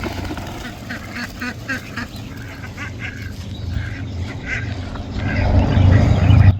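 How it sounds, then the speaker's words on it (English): Mallard ducks quack in a series of short, nasal calls close by, over a low rumbling background that swells louder toward the end. "You green-headed, orange-footed duck."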